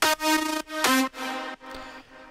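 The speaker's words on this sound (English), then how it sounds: "And then we add the volume automation clip and it sounds like this." A sustained synth note from an electronic dance production, its volume automated to swell and dip in a wobbly pattern, pulsing through several distinct surges that fade toward the end, with no voices.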